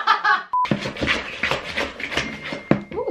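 A phone notification sounds in a kitchen during baking: one short, clean electronic beep, followed by clattering and rustling activity nearby.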